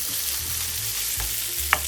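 Pork and kimchi fry in a preheated pan over medium heat, a constant hissing sizzle up close with a couple of brief stirring clicks, no talk.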